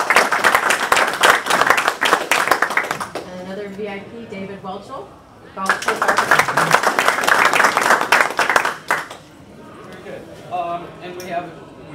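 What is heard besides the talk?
audience applause at a Rotary Club meeting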